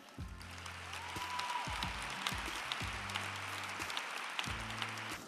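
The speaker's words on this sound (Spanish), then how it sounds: "pido un fuerte aplauso para ellos" A large audience applauds at a formal health-profession ceremony, a steady wash of clapping building and holding across the room, with low repeated thumps beneath and faint murmurs.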